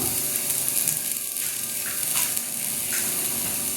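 Tamarind and cumin seeds tossed into a hot pan for a village-style okra kuzhambu, a soft continuous sizzle with a few light stirring scrapes, fairly quiet and without talk.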